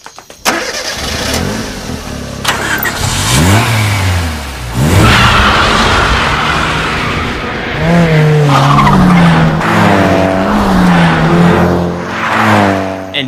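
Racing cars on a mountain pass in an anime scene, engines revving and climbing through gears with tyres skidding, loud and close, continuous over the whole stretch.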